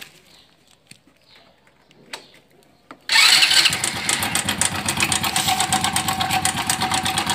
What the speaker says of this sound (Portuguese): Eu vou estar funcionando a moto aqui